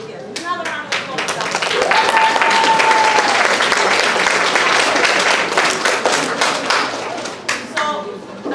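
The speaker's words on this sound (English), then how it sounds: "So can we get another round of applause?" Steady, fairly loud applause fills a school auditorium at the Harmony Program spring recital at PS 346, building to a dense, sustained roar of clapping before thinning into scattered claps, with a voice briefly over it.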